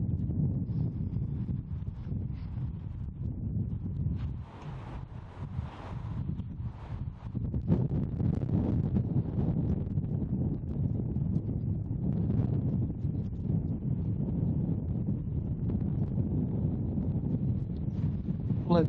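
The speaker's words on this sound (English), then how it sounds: "Let that gust of wind blow by first." Strong outdoor wind gust buffeting the microphone at an archery range, a low, rumbling roar that dips briefly then swells louder and holds steady, with no talking.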